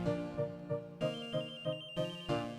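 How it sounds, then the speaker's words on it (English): A classically inspired musical piece on display in a basement warehouse in the Phoenix Wright: Trials and Tribulations video game. It plays a steady, chiming melody with a pulsing rhythm like a telephone ringing, fairly faint, with no talking. "it sounds like a phone's ringing"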